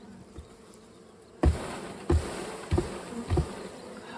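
Honey bees hum steadily from an opened beehive full of brood, a close, continuous buzzing broken by several sharp bumps and knocks from handling the hive.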